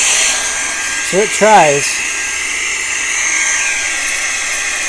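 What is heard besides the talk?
VSGO small handheld vacuum running in hurricane mode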